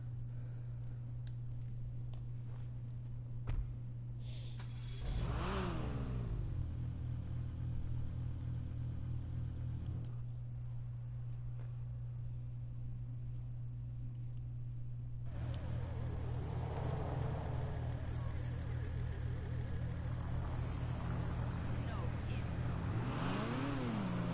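A Koenigsegg-style Entity XF supercar engine in a racing-game garage scene, idling with a low drone and then revving in rising and falling sweeps, with someone talking over it.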